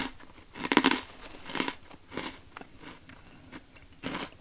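Dry MRE apple pie mix with cinnamon, brown sugar and apple crunched while eating, several loud close bites and chews at uneven intervals with no talk.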